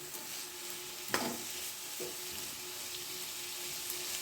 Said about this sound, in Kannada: 1-2 ನಿಮಿಷ ಇದನ್ನು ಒಗ್ಗರಣೆಯಲ್ಲಿ ಬಾಡಿಸಿಕೊಂಡಿದ್ದೇನೆ.